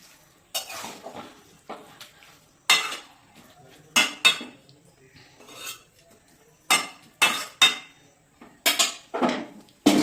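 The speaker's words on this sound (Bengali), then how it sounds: "ঘিটা দিয়ে একটু উপর নিচ করে দিই, নেড়ে চেড়ে।" A spoon scrapes and clanks against a pan as a cauliflower and potato curry with ghee is stirred, with irregular bursts of metallic clatter separated by near silence and a faint sizzle underneath.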